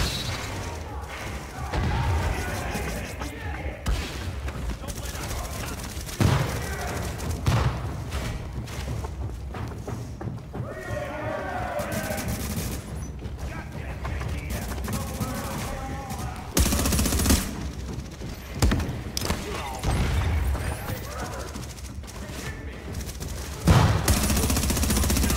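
Gunfire during a firefight in the video game The Division, on a heroic-difficulty incursion: sustained bursts of automatic fire with sharp individual shots and heavy thuds, continuous and loud, with occasional voices mixed in.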